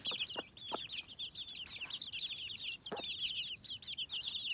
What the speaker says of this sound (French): On dirait que la grise a plus d'autorité sur les petits poussins.